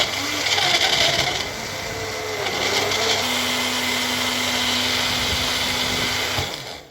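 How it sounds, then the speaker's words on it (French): Countertop blender blending a frozen-fruit smoothie, a loud continuous whirring drone that holds steady for several seconds before winding down at the end. "Je vais mixer le tout. Moi, je le fais mixer minimum 3 bonnes minutes."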